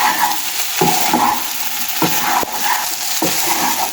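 Liver singara filling with potatoes and spices stirred and fried in a pan, a loud close sizzle broken by repeated scraping strokes of the spatula at irregular intervals.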